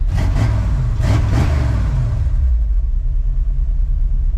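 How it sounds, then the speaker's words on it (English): An old big-block V8 in a Ford F100 revs in two or three quick, loud blips, then settles into a deep, steady rumbling idle, heard close with no talking. "that's pretty responsive for an old big block"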